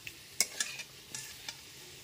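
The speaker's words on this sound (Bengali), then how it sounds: "সমস্ত পনিরগুলোকে দিয়ে দেওয়ার পর গ্যাসের ফ্লেমটা একদমই লোতে রেখে পনিরগুলোকে 1 মিনিটের মতো হালকা করে ভেজে নেব।" Paneer cubes lightly frying in a pan over a low gas flame, with a faint steady sizzle broken by a few brief scraping stirs, quiet and close, no voices.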